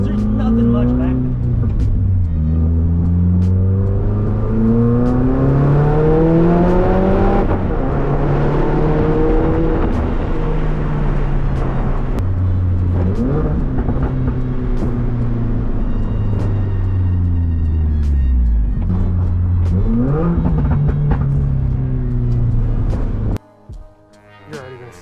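A car engine with only part of its exhaust hooked up revs up and down repeatedly, loud and close, its pitch rising and falling in long sweeps before cutting off near the end.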